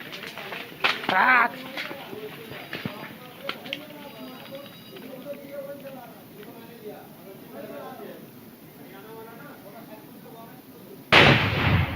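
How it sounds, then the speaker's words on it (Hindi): A couple of sharp blasts early on, then people talking over a rough background, ending in a sudden loud boom from a Naxal attack in Dantewada, Chhattisgarh. "धमाके की आवाज भी हम आपको सुना रहे हैं"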